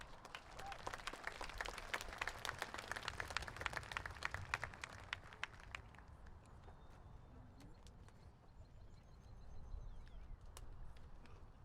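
Audience at a high school graduation ceremony applauding, a steady wash of many hands clapping that tapers off toward the end, fairly distant and moderate in level.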